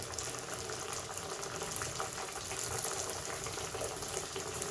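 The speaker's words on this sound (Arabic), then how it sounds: "بعد ما سخنت الزيت غادي نرميو المثلثات ديالنا في الزيت على هذا الشكل" Dough triangles fried in a pan of hot oil, giving a steady, dense sizzling hiss that stays even and close throughout, with no talking.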